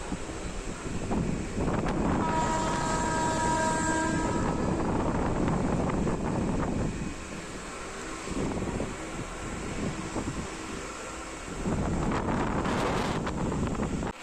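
A local train runs on the Howrah to Chandanpur line, heard from on board near Baruipara, a deep rumbling roar buffeted by heavy wind on the microphone. Brief tonal squeals appear early, and the roar eases as the train slows.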